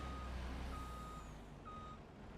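Steady electronic reversing beeps from a truck in a trucking video game, repeating at an even rhythm over a constant low engine rumble with no talk.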